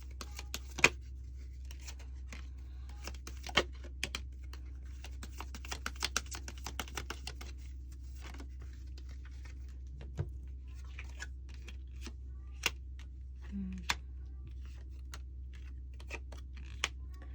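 Tarot cards are drawn from the deck, soft scattered clicks and flicks of card handling over a low steady hum, faint and close with short pauses between.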